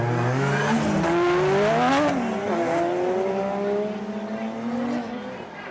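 Drift cars at a Formula Drift Japan competition, engines roaring and revving with rising and falling pitch as they accelerate, loud and sustained with tire noise beneath, a commentator talking over it.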